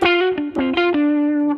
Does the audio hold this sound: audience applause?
no